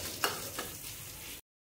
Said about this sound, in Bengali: এরকমভাবে মাছগুলো ফ্রাই করবেন।